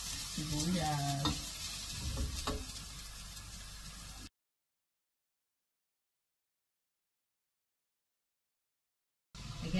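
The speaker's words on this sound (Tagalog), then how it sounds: "Ituin natin mabuti ang bawang. Sibuyas." Garlic and onion sauté in a hot pan for a sotanghon noodle dish, giving a steady close sizzle that cuts out midway and then returns briefly at the end.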